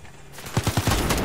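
Rapid gunfire in Call of Duty Modern Warfare starts after a quiet moment and comes as a quick burst of six or so punchy, close shots in under a second.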